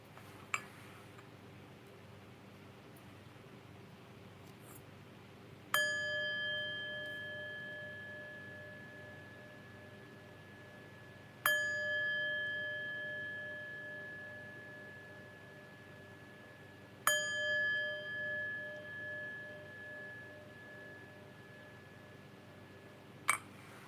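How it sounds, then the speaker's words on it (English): Chime struck three times at even intervals, each a bright, clear metallic tone ringing with overtones that decays slowly in a quiet room, followed by a short final tap. "but first, let's chime."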